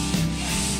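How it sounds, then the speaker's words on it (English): Hand sanding the wood surface of a game table, one short close rubbing stroke of abrasive on wood. "You gotta finish with hand sanding"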